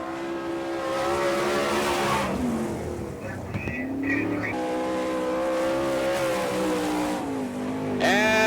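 Sprint race cars at the Winternationals dirt track in Gibsonton, Florida roar past with loud, rising and falling engine whines and tire scrubbing, with an announcer heard over the din.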